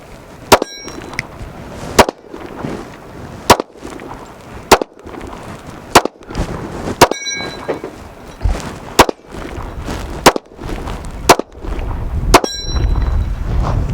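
Ten sharp, loud shots from a Ruger RXM pistol, fired at a steady pace about a second or so apart, using copper-plated 124-grain hollow-point hand loads, each crack ringing briefly.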